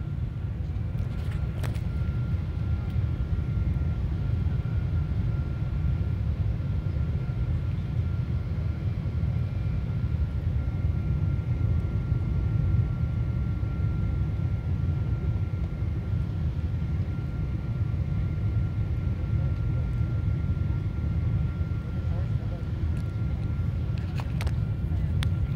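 An El Al Boeing airliner landing in Dubai, heard from inside the cabin as a steady, loud low-frequency engine and airflow roar that holds constant throughout, with faint clicks near the start and end.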